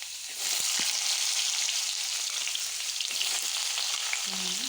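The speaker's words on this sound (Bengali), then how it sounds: "এবারে দেখুন আমি তেলের মধ্যে জিরে ফোড়ন দিয়ে দিচ্ছি। তার মধ্যে এখানে আলু দিয়ে দিচ্ছি।" Boiled, diced potatoes and cumin seeds fry in hot oil, giving a loud, continuous sizzle that surges up almost at once and holds steady throughout, with a faint clink near the end.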